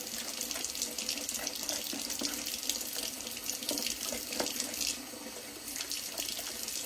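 Hot water gushes steadily from a tap into a sink, a continuous close splashing rush with no voices.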